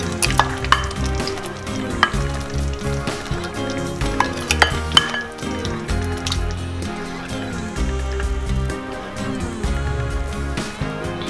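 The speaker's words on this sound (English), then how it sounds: "My gravy has started boiling." Butter chicken gravy made with store-bought sauce bubbling and sizzling in a pan over high gas, with busy stirring, clinks of utensils against the pan and steady bubbling throughout.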